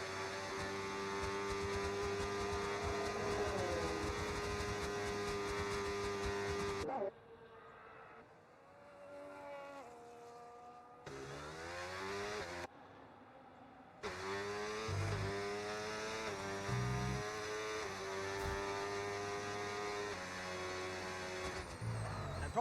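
Race car lapping the Bahrain circuit in a racing video game, its engine howling and rising through gears with brief gaps and drops between shifts, steady and close throughout.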